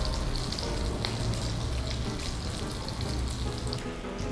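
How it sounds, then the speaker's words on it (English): Rissoles sizzling in a frying pan, a steady dense hiss and crackle of hot oil that holds evenly throughout at close range, with no talking. "Add into the frying pan."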